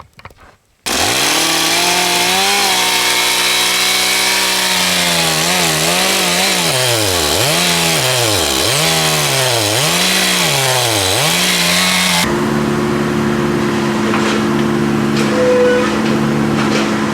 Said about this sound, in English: now we're gonna cut this big white oak into 13-foot sections for that trailer